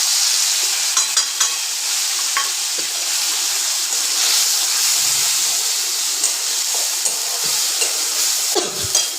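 A ground spice paste hits hot oil with whole spices in a pan for a vegetarian paneer dish, giving a continuous loud sizzle and hiss, with scraping taps from a spoon stirring it at close range.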